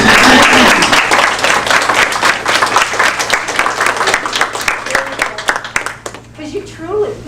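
An audience at a World War II unsung heroines commemoration applauds attending relatives, with steady dense clapping that thins toward the end while voices speak over it.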